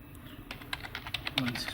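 Someone types a router IP address on a computer keyboard, a quick run of light, close key clicks in an irregular rhythm over a faint background hum.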